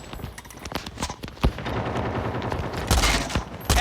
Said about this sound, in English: Never mind, it's a burst fire.